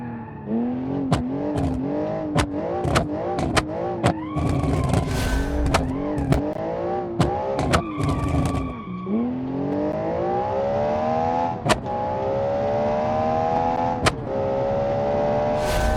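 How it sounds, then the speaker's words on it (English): Muscle car racing hard around a track during a showcase race heat, engine revving up and down through gear changes with sharp upshift breaks, loud and close throughout, then settling into a long steady high-revving pull. "This thing is a muscle car through and through."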